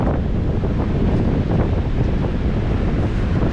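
Strong wind blows across an ocean beach, a steady, loud roar of gusts buffeting the microphone with surf rumbling underneath, continuous for the whole stretch.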